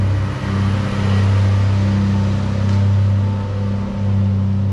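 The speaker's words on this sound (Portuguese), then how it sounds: "Vou esperar o caminhão passar na rua." A truck passes on the street outside, a steady low engine rumble with a droning hum that holds loud and continuous throughout, swelling slightly as it goes by.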